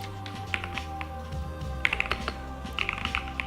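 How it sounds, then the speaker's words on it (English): A mechanical keyboard with budgerigar switches clatters in quick, close bursts of crisp keystrokes, some fast runs and short pauses, over a steady low background hum. "the budgerigar is the one that's making all the clickety-clackety happen"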